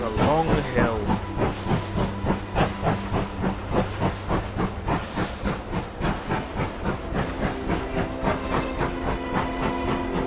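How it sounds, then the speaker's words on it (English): Rhythmic chugging puffs of two steam locomotives pulling a train up a long hill in a train simulator game, steady and close, with hissing steam and layered music-like tones running throughout. "The 2 engines puffed together as they pulled the train"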